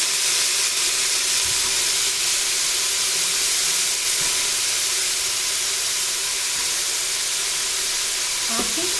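Chopped bottle gourd and peas dropped into a hot pan give a loud, steady sizzle and hiss of frying, with faint clinks near the end and no speech.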